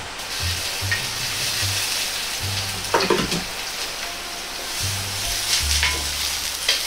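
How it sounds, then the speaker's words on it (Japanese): Ginger and green onion stir-fry in a small spoonful of oil in a pot over low heat, a steady soft sizzle running throughout with a few brief clatters of stirring, heard alone without talk. "鍋に小さじ1の油を入れ、 生姜とネギを炒めます。"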